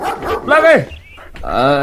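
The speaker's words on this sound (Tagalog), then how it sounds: "Makapanirbyos mo dito nga aso. Kumagat samot." A dog barks and growls in a few loud, close, rising yelps during a comedy drama scene, the sharp calls separated by a brief pause.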